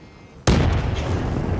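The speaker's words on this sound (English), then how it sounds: "I just saw the explosion." A sudden loud blast erupts in the Black Ops 3 video game, a sharp boom after a quiet moment, followed by a sustained rumbling roar that stays loud to the end.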